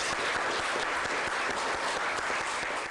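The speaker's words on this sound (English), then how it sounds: "And I'd like to give you a round of applause." Applause fills a courtroom after a community court result, a dense, steady wash of many hands clapping at close range with no talk over it.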